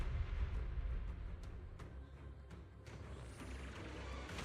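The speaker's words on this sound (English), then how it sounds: "Explosions are becoming more frequent." Repeated deep booms and rumbling blasts in a video game at irregular intervals, with sharp cracks layered over a constant low roar, all fairly loud and continuous.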